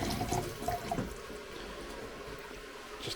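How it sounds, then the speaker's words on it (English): Water poured into a pan of chicken curry, a steady close splashing and trickling stream lasting a few seconds with no talk. "Add a bit of water."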